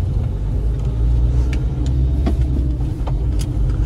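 A car engine with its turbo running, heard from inside: a loud, steady low rumble with a constant drone and a few faint clicks, no talk.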